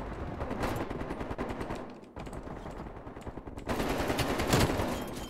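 Sustained automatic gunfire from Call of Duty: Black Ops Cold War in a Search and Destroy match, dense rapid bursts running nearly continuously, loud and close, with a brief lull before a heavier burst near the end.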